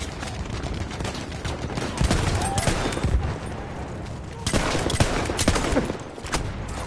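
A Sjogren Inertial shotgun fires in Battlefield 1, several loud, punchy blasts spaced at a moderate, uneven pace over a noisy battlefield, with someone talking between shots.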